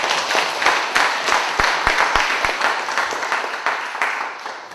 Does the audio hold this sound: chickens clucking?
no